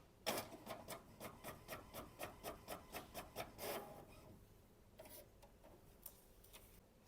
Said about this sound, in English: So I'm going to go ahead and go back to the printer and press print.